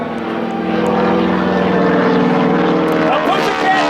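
A propeller airplane trailing smoke makes a high-speed inverted rolling pass across show center at a fly-in air show, its engine droning loud and steady with a slight pitch shift as it passes, under a public-address voice.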